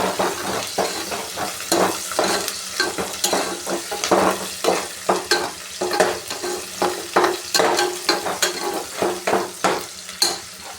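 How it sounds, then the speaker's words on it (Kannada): Shredded cabbage for a wedding-style masala palya fries in a pan, with a constant sizzle under rapid, rhythmic scraping and clinking of a spatula stirring throughout, close and fairly loud, no one talking. "ಚೆನ್ನಾಗಿ ಫ್ರೈ ಮಾಡ್ಕೊಳ್ಳೋಣ"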